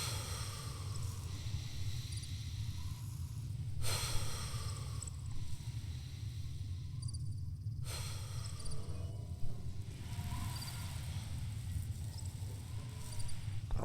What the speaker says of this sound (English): I'm breathing very heavily